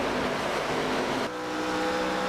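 Loud, continuous stock car engine roar with a sustained high-pitched tire squeal, shifting abruptly midway as the car moves through the S-turns at Homestead-Miami Speedway in a NASCAR racing video game.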